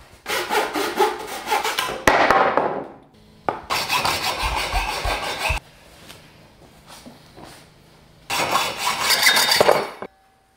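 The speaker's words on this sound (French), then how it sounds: "Scie." A hand saw cuts wood for a stair step during a dry floor screed installation, with three bursts of rapid, rasping back-and-forth strokes, close and loud, separated by pauses, with no talking.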